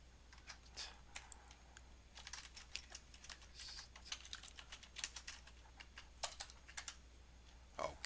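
Steady typing of commands on a computer keyboard while setting up an Ubuntu server, with rapid clicky keystrokes in uneven bursts and short pauses, close and fairly quiet, with no voices.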